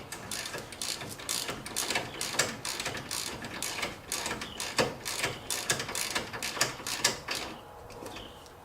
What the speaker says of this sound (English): Ratchet it in. It'll get snug.